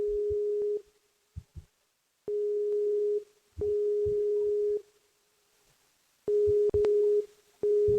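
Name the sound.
telephone ringing out, no answer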